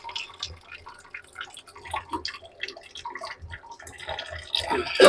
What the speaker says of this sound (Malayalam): കപ്പ ഊറ്റി കഴുകി